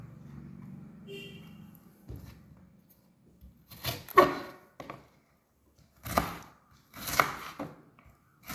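A knife chops okra and beans on a cutting board: a few sharp, separate thuds spaced a second or more apart, with quiet pauses and a soft low hum early on.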